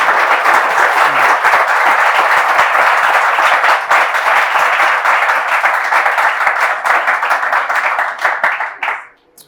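A television studio audience applauds as a guest is brought onto the set, with dense, steady clapping that holds loud for about eight seconds and then tapers off quickly near the end.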